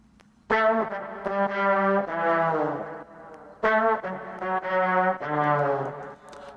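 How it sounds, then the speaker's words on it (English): A trombone plays two sustained, brassy melodic phrases alone, each opening with a sharp attack and holding rich, bright tones, from the horn arrangement of a song. "And then here's the trombone."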